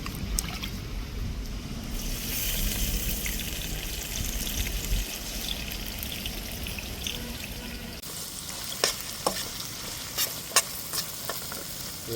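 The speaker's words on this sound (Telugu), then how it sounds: "ఆయిల్ కొంచెం వేడెక్కాలి వేడెక్కిన తర్వాత మనం ఆనియన్స్ వేసేస్తున్నాం" Onions dropped into hot oil in a pan, giving a loud, continuous close sizzle and crackle that runs throughout, with a few sharp utensil clinks near the end and no talking.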